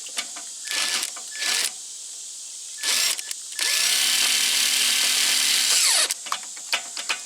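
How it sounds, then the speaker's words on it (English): A power drill drives a screw into a single gang box mounted at a service drop, running close by in several short bursts followed by one longer sustained whir, with brief pauses between. "I put one of my screws in."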